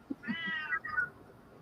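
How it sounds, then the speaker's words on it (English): A house cat meows twice in quick succession, a drawn-out, fairly clear call followed by a shorter one, close by in an otherwise quiet room. "I think I hear my cat saying,"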